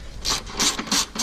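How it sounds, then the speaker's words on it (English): Socket ratchet loosening nuts on a Toyota fuel filter housing, heard as three quick, close clicking bursts of the pawl in steady rhythm, with no talk. "You get your socket. You loosen up these 3"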